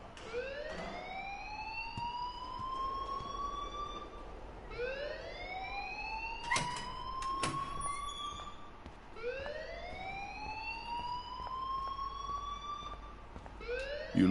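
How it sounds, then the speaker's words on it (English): Wailing siren-like alarm inside a school building in Life is Strange, rising sweeps repeating in long cycles, loud and continuous, with sharp clanks in the middle. "please turn off that alarm since that's your job"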